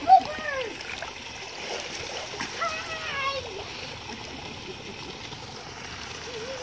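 Water splashing in a swimming pool, a sharp splash at the start followed by softer sloshing, with children's and adults' voices calling and talking over it throughout.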